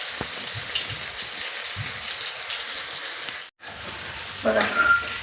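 Stuffed bitter gourds fry in hot oil for a karela sabji, a steady close sizzle running throughout, broken by a brief drop near the middle and a rise in crackle as the pieces are turned over near the end.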